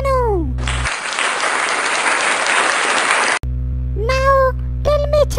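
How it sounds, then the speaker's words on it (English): A classroom of animated cartoon children bursts into loud clapping for Chenu, a solid burst of about two and a half seconds that stops abruptly, with high cartoon voices talking before and after. "Very good, Chenu. Everybody clap for Chenu."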